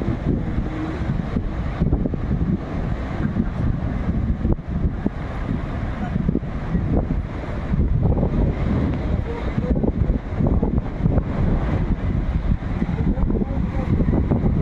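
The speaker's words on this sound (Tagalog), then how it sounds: "Lalakas ng alon, no?" Strong sea waves roll in under heavy wind buffeting the microphone, a loud continuous low roar near a seaside vacation house, with faint voices underneath.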